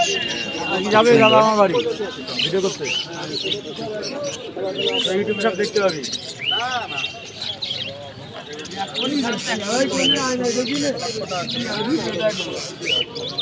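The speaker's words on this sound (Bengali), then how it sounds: "নানান প্রজাতির পায়রা উঠছে, দেখো তোমরা বন্ধুরা" Pigeons of various breeds coo and chirp in crates at a busy outdoor bird market, a continuous layered chorus, while people talk nearby throughout.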